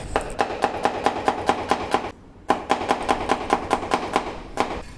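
Knife chopping vegetables on a cutting board, a steady rhythm of sharp close taps with a brief pause midway before the cutting resumes, no talk.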